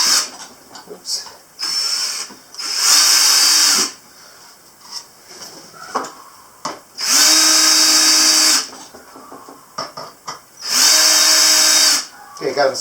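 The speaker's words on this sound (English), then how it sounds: "I'll go ahead and start drilling them in a little bit." A power drill drives 4-inch screws while an entry door awning is built, in three long, loud whirring bursts with shorter trigger blips between them, close by and with no speech over it.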